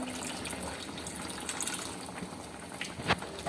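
Garlic-infused water poured into a karahi while cooking chicken karahi, a close, continuous splashing and gushing pour with a brief louder splash near the end, no talking.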